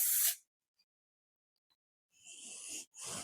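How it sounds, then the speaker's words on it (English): A short hissing spray burst, then a pause, then two longer close aerosol sprays in quick succession. "give it a good spray with texture spray"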